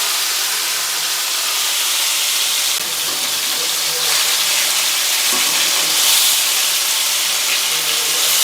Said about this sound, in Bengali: একে হালকা তেল দিয়ে প্যানের মধ্যে ফ্রাই করে নেব।